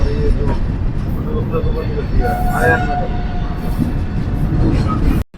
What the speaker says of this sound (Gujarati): મુંબઈની લોકલ ટ્રેન અત્યારે આવે છે